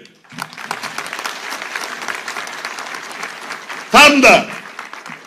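Applause from the audience at an HDP party provincial congress in Hatay, steady clapping running under someone speaking through a loudspeaker, with a brief louder burst near the end.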